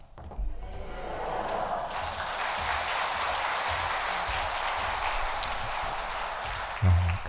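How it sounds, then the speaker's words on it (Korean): A church congregation at an evening revival service claps in welcome, a dense sustained wash of applause starting after a brief lead-in and running steadily, with a low thump near the end. "오른손 들어서 할렐루야로 또 박수 치시면서 환영하도록 하겠습니다"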